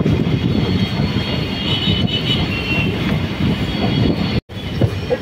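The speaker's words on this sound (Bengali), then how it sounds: "ব্রিজের ঠিক নিচটা দিয়ে বেরোয় হাওড়া থেকে আসা ট্রেনগুলো" A train from Howrah rumbles loud and close beneath a road bridge, a continuous roar of wheels on rails with a faint metallic squeal and a short cutout near the end.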